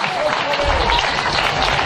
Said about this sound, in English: And you heard what the crowd thought about that one in the background